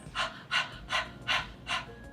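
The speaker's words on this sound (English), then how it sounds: "If you inhale too much, your Kapalbhati is going to look a little bit like this." Kapalbhati yoga breathing done with too much inhaling: five rapid, evenly spaced breathy huffs through the nose, close and moderately loud, sounding much like a dog panting.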